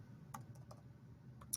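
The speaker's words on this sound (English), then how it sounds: "all you need to be here is typing in the student ID number," Someone types a student ID number on a computer keyboard, a handful of faint, irregularly spaced key clicks over quiet room hum.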